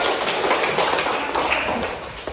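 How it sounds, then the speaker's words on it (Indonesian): A group claps hands together in a classroom, producing a steady, dense patter of applause that holds for a couple of seconds with no talking. "Ya, tepuk tangan dulu."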